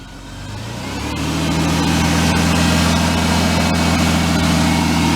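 A car's 3.0-liter V6 engine, about 231,000 miles, idles steadily with a low, even hum, swelling slightly at first and then holding a constant rumble close by.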